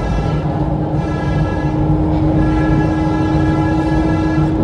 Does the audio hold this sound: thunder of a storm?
no